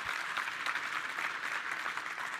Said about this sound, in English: let's give Dr. Beth a big round of applause